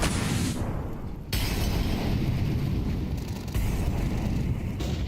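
Grenade blasts and utility bursts from a professional Counter-Strike match between Navi and paiN on Mirage, landing on the A site; a sudden loud burst cuts in over a dense, continuous wash of in-game noise.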